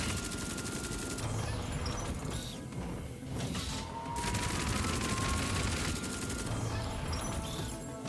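A mech unleashes sustained rapid gunfire in Honkai Impact 3rd, a dense, loud, continuous barrage of shots with mechanical clatter and a few brief pauses, no voices over it.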